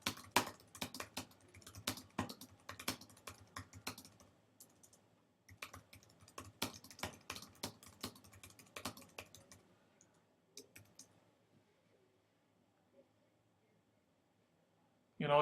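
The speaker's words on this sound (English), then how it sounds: "and start typing" Bursts of typing on a computer keyboard, quiet and close, with rapid clicking keystrokes in uneven runs separated by short pauses, tapering off into near silence toward the end.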